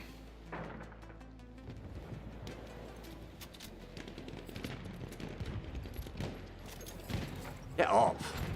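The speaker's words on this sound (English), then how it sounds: "Fun little sniper rifle, man." Sniper rifle shots ring out in Battlefield 1 multiplayer, sharp cracks scattered through a busy wash of battlefield noise, with a louder burst near the end and voices talking over the action.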